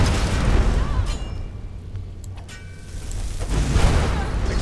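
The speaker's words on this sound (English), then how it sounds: "Explosions." Deep booming explosions in Skyrim roll out in loud, rumbling waves, one at the start and another swelling near the end, with a quieter rumbling lull between them.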